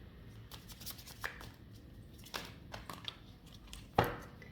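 Tarot cards are handled and drawn, with soft shuffling swishes, slides and light taps at a close, quiet level, ending in one sharper snap.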